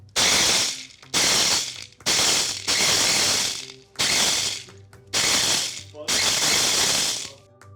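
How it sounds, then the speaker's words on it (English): A mini food processor grinding birthday cake cereal in six loud, whirring bursts of about a second each, separated by short pauses, close up. "What I'm gonna do is grind some up in this mini food processor"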